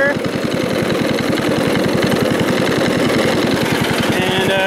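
Riding mower tractor engine running with its deck still spinning while being loaded onto a trailer, a loud, close, steady rhythmic chug that never lets up, with a voice talking over it.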